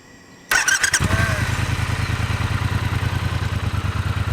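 A Triumph T120 motorcycle engine cranks and fires after a quiet moment, then settles into a loud, close, steady thumping idle with a brief squeal as it catches.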